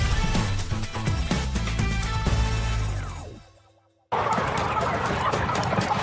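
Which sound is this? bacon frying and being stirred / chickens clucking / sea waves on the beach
chickens clucking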